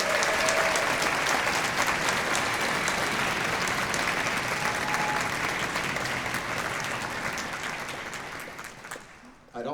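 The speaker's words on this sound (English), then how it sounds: "can we give them a big round of applause, please?" Sustained applause from a crowd at a high school honor band concert at Cal State Fullerton, dense clapping that holds steady for several seconds and then gradually fades away.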